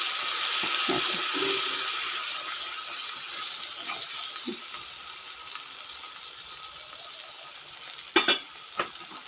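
Vegetables frying in hot oil with turmeric powder in a village kitchen give a steady, moderately loud sizzle throughout, with a few brief clatters and knocks near the end.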